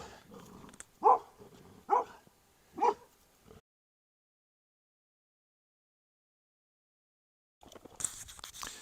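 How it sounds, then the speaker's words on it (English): A dog barks three loud, evenly spaced times close by at the Chief Standing Bear statue, then falls silent before outdoor noise returns. "You can't bark at Chief Standing Bear."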